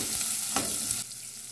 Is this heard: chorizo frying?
yes